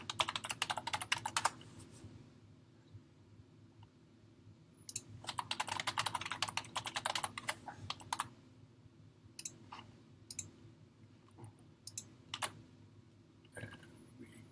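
Email address typed on a computer keyboard: quick close bursts of key clicks separated by pauses, followed by a few scattered single taps, with no voices.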